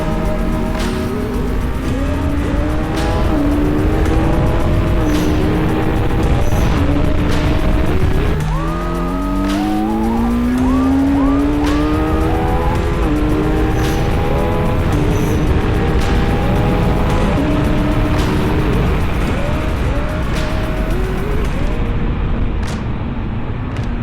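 A 2025 Kawasaki Z900 SE motorcycle laps a racetrack at speed, its engine loud and close throughout, rising and falling through gear shifts with steady wind roar.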